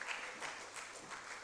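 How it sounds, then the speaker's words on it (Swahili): Faint, distant audience applause at a national human rights dialogue event in Tanzania, a brief, even patter of clapping. "Tupige makofi mengi sana mpaka atakapoenda kukaa."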